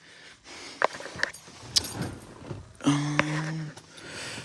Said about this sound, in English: Get my keys out.